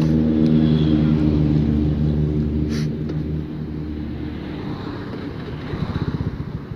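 A Honda Beat STD scooter fitted with a KJS aftermarket exhaust idles and runs on a public road, a steady close engine drone that eases off midway and then picks up again, with wind noise and no talking.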